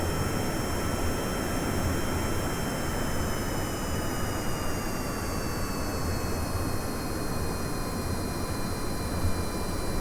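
Jet aircraft flying in Kerbal Space Program, a constant roaring engine whine with faint steady tonal lines that slowly drift in pitch, heard alone for ten seconds.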